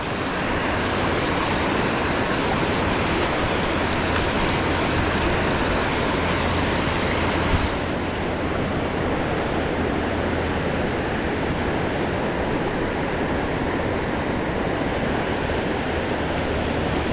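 A steady, loud rush of flowing river current fills the whole stretch, a constant roar of water with no voices.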